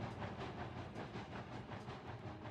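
A video game train rumbles along its track with a steady, faint rolling hum and clatter, continuous and unbroken, with no voices heard.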